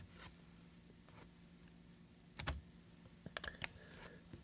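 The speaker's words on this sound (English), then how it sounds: "hold down the shift key on the keyboard and hit restart" A few quiet key presses on a computer keyboard, including a shift key held for a Windows 10 restart, with two brief clusters of clicks over a faint room hum.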